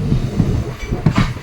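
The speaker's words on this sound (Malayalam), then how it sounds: "ഇത് ഉടൻ തന്നെ നമ്മൾ സ്റ്റേഷനിൽ നിന്ന് ട്രെയിൻ എടുത്തിരിക്കുകയാണ്" Madurai–Guruvayur Express pulling out of the station on the Tenkasi–Kottarakkara line, a steady low rumble of wheels on rails with a few heavier thumps and a brief brighter rattle near the end, no voices.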